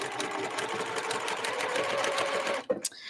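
A sewing machine stitches an oven mitt, running in a fast, even whir of needle strokes for nearly three seconds before stopping with a brief clunk.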